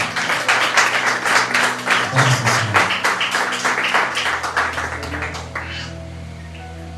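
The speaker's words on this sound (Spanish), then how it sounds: "Denle un fuerte aplauso al Señor, hermano." Worshippers at a Spanish-language church service clap together in a quick, rhythmic beat that fades out after about five seconds. Someone speaks a word as the clapping dies away.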